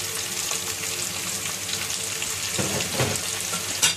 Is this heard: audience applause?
no